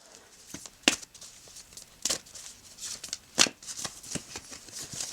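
Playing cards being shuffled, with several distinct riffling bursts at irregular intervals and soft handling sounds between them, close and fairly quiet, with no voices.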